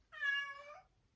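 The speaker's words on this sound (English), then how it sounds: "sorry about my cat back there." A house cat playing with its toys lets out one short, clear meow from nearby in an otherwise quiet room.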